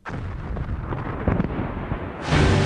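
Quarry rock blast set off on command, a sustained roaring rumble of detonation and falling rock that swells louder and broader near the end.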